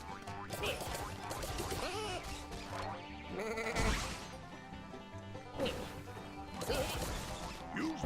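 Sheep creep character from Skylanders Trap Team bleating repeatedly amid busy game music and crashing hits, with loud overlapping sound effects throughout.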